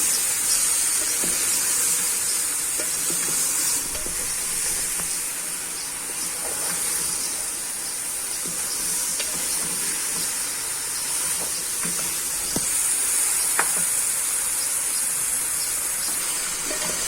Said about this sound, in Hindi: ये आलू डाल देंगे। इनको भून लेंगे।